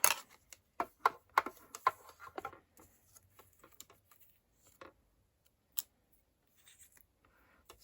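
Scissors snip through cinnamon cider patterned paper in a quick run of sharp close cuts, thinning into scattered isolated snips with quiet pauses between.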